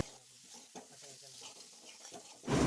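A spoon scrapes and stirs a boiled potato filling for stuffed pointed gourd in a wok, with soft sizzling and irregular scraping strokes close by and a louder clatter at the end.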